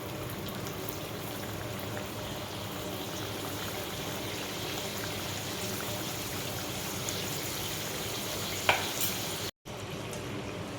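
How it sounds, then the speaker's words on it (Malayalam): Folded madak dosa frying in hot oil, a steady broadband sizzle that holds evenly throughout with a single brief pop near the end and no talking. "ചൂടായ ഓയിലിലേക്ക് ഇട്ടിട്ട് ഫ്രൈ ചെയ്തിട്ടെടുക്കാം"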